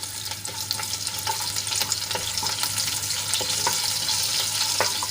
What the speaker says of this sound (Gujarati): એક કાપેલું ઝીણું મરચું એડ કરીશું અને થોડીવાર માટે આપણે એને સાંતળી લઈશું